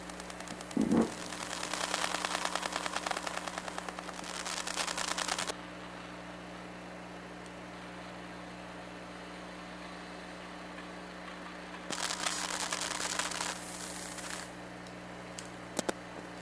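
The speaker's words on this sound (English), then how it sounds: "those are just some of the basic sounds of some of the simple chips inside" Pocket PC chips picked up through an electronics stethoscope give a steady low electronic hum with bursts of dense buzzing whine that start and stop, plus a few faint clicks.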